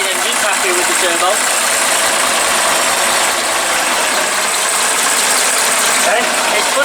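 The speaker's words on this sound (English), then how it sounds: "Turbo aspirated engine, happy with the turbo." Turbocharged car engine idling, a loud steady mechanical drone with a faint ratcheting, whirring texture held evenly for several seconds, no talk over it.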